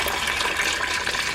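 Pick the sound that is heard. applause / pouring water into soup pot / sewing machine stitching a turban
pouring water into soup pot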